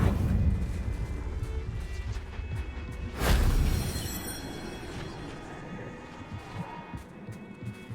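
A Confringo fire spell bursts in the video game Hogwarts Legacy, a single loud fiery blast with a whooshing burst that fades into rumbling game ambience.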